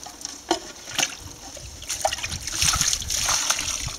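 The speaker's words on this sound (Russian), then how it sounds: "Выливаем водичку." Water is poured onto a warm raised garden bed being prepared before planting seedlings, splashing and trickling close by in uneven bursts that grow steadier toward the end.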